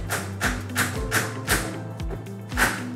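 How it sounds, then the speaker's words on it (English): A dowel being hammered down through a stacked wedding cake onto the top plate of a turntable expander, giving a series of sharp, hollow metallic taps about every third of a second, with ringing overtones, close by and alone. "You'll hear it when it hits the top of the turntable. It'll make that kind of like hollow ping."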